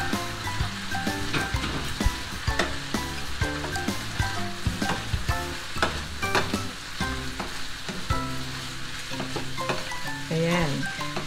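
Noodles go into a pan of softened vegetables and are stir-fried, with steady sizzling and frying under repeated scraping and clattering of a utensil against the pan, fairly close and continuous throughout.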